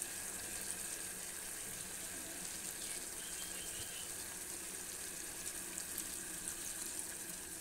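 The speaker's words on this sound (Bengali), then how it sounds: "এবার আমি গরম জল দিয়ে দেবো।" Hot water poured steadily into a pan of mutton curry, a faint continuous wash of liquid with no pauses.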